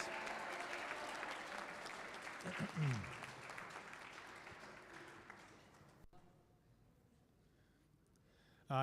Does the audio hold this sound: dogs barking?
no